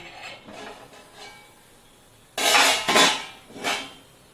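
Metal lid clattering on an appe pan while sweet jaggery and wheat-flour appe cook, a few faint clinks and then louder scraping knocks as it is lifted, close and without talk.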